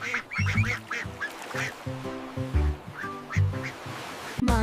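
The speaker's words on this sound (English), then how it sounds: "Mama duck called quack" Ducks quack in quick repeated bursts, loud and close, with several calls overlapping in a choppy rhythm and no voices.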